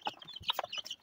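Fifteen-day-old chicks cheep and peep in a short burst of several quick, high calls close by, with no talking.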